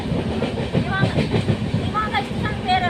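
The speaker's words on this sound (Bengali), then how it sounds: "বন্ধুরা ট্রেন ছেড়ে দিছে," A passenger train pulls out of a station, giving a steady, loud rumble of wheels on rail with faint clicks and squeals rising over it, heard from on board.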